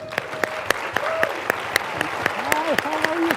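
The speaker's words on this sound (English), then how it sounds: "So they deserve a round of applause." Audience applause at a sheriff's oath of office ceremony, steady clapping with sharp individual claps standing out, while voices and a few whoops or calls rise over it.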